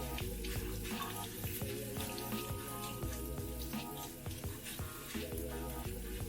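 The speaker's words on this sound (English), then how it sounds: "let's do our farro. We're going to rinse them just like we did our lentils" Farro grain is rinsed under a running kitchen tap, water pouring steadily into the sink and grains swishing and clinking against the bowl in rhythmic bursts, close and with no talking.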